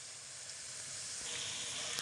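Half a spoon of cumin seeds sizzles in hot oil in a pan, a steady close hiss of frying that holds evenly throughout and swells slightly near the end, with no talking.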